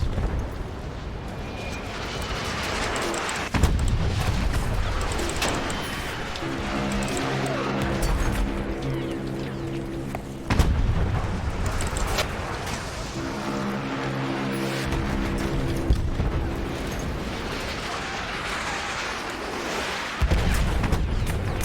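Heavy artillery fire and explosions on a Battlefield 1 battlefield: loud booming blasts land at intervals among rumbling engine drones and constant combat noise, with no voices over it.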